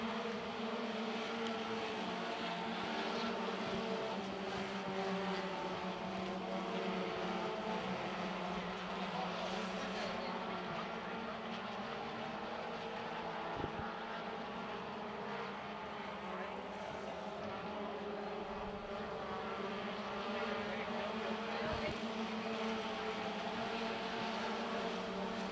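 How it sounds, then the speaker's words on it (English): Hornet-class race cars circle Carolina Speedway at an SEHA feature, engines droning steadily and continuously at moderate distance, with a race commentator talking over the whole stretch. "Off turn four, Newman Presnell still leads the field"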